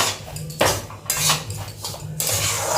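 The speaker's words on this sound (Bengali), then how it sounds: "ভালো করে নাড়াচাড়া করব সুজিটা একটু লাল হোক" Semolina is stirred and roasted in a metal pan over a medium flame, with repeated loud scraping strokes of a spatula against the pan in an uneven rhythm, close by.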